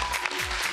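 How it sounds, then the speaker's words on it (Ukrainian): Steady clapping from a crowd, dense and sustained throughout, with no voices standing out. "Гучні оплески команді"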